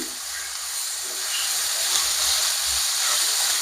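Bitter gourd pieces being stirred in a pan over lowered heat, a continuous even hiss of steam and sizzling that swells slightly midway, close and steady with no talk.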